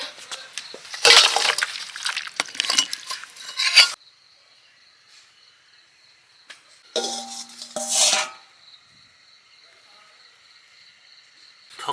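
Cooked chicken curry with new potatoes being tipped out of a pot, heard as a clattering burst of metal scraping and sloshing, a lull with a faint steady whine, then a second shorter clanking pour.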